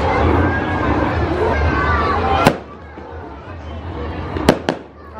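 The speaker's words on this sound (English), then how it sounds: "These are some incredible fireworks." Fireworks at the Toowoomba Show fair in Australia pop and boom at a distance, a few sharp bursts standing out over crowd murmur and chatter.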